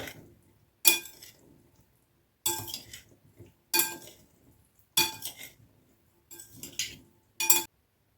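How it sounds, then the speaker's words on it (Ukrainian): Utensils clink and scrape against a bowl in several separate bursts of stirring a herring and beetroot salad, with quiet pauses between, close up. "Трошки все розмішаю, перемішаю ось так."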